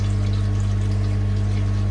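Water bubbles and flows out of a garden pond's drainage pipe, a steady rushing wash over a strong, constant low pump-like hum, continuous and fairly loud with no voices.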